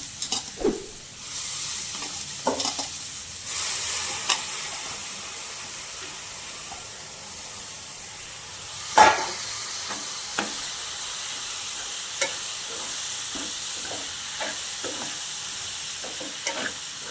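Soaked puffed rice tipped into an oiled pan for upma, a soft steady sizzle with repeated spoon scrapes and taps against the pan, one sharper knock partway, close by and without speech.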